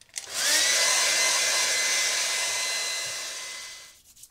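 A hair dryer blows steadily to dry a watercolour snow scene painting, loud and close, switching on with a brief rising whine and running for about four seconds before cutting off.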